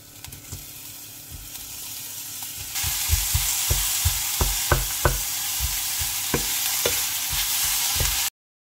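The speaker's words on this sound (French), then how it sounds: "je préfère faire revenir les oignons et ail ensemble pour donner un bon goût au plat" Onions and garlic frying together in olive and sunflower oil, a constant hiss that grows louder partway through, with repeated sharp utensil taps and scrapes against the pan.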